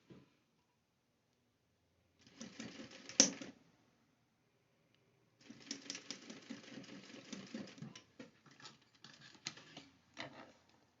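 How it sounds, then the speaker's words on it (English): A sewing machine stitching the back waist seam of men's pants during an alteration, with short quiet runs of fast rhythmic stitching, one brief burst, then a longer run broken into several stop-start spurts. "We're going to stitch the right back to the top right here."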